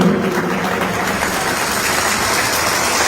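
At a wedding ceremony, an audience breaks into strong, sustained applause, a dense continuous wash of many hands clapping at even loudness throughout.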